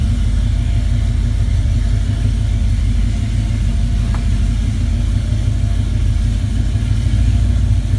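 Ice-cold 1967 car with a 396 engine idling just after starting in cold weather, a loud, close, steady low rumble with an even throb and no voices.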